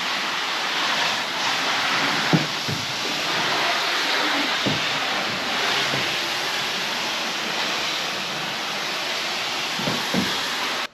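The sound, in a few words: rinsing a car off with water in garage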